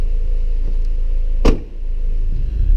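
A 2017 Ford Focus RS rolling along with steady low road and engine rumble inside the cabin, a brief sharp broadband burst near the middle like a click or bump, no talking.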